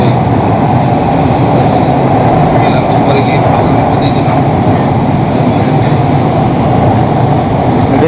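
A crowded metro train runs through the tunnel beneath the Ganges river, a loud constant rumble and roar close by, with passengers talking over the din and faint high squeaks now and then.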